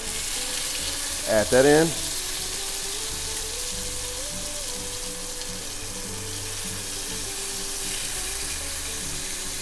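Marinated meat sears in a hot pan, giving an even, steady sizzle throughout; a brief spoken remark cuts in near the start.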